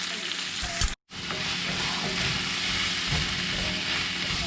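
Vegetables fry in a pan with Creole blackening seasoning, a dense, even close-up sizzle that cuts out briefly near the start and then continues steadily without speech.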